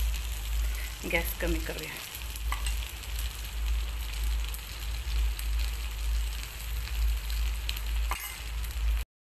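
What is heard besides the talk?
oil sizzling in a nonstick appe pan of fasting appe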